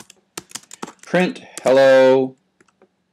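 Keys click on a computer keyboard in quick irregular taps, close and distinct, broken up by a spoken phrase in the middle.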